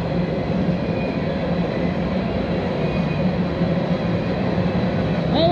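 A loaded coal train with two locomotives pushing at the rear rolls past close by, a loud, continuous rumble and grinding of wheels on rail with little change throughout.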